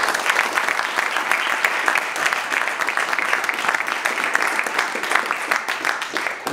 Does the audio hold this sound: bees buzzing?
no